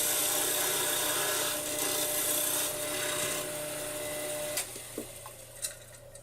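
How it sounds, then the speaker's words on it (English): A skew chisel roughs the corners off a spinning Brazilian purpleheart blank on a wood lathe. A steady, close scraping rasp runs over the lathe's hum, then gives way to a few separate scraping touches near the end. "Just using a skew chisel to rough off the corners."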